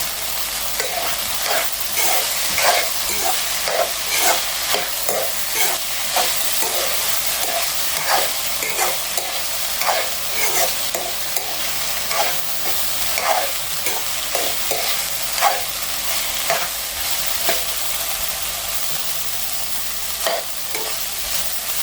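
Broad beans stir-frying in a pan for a Tamil poriyal, a continuous sizzle broken by regular scraping strokes of a spatula, loud and close with no voices.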